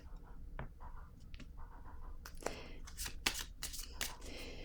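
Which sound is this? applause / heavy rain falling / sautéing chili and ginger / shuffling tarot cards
shuffling tarot cards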